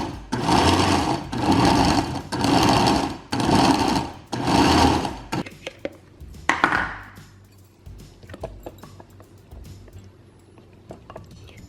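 A countertop blender pulses fruit for dairy-free ice cream, five loud whirring bursts of about a second each separated by short pauses, followed by quieter clatter and handling noises, with someone speaking briefly.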